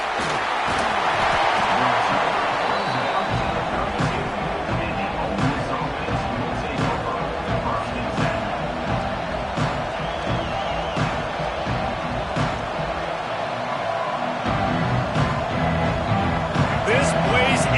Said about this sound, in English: This place is roaring